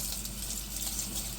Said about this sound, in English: just turn on the water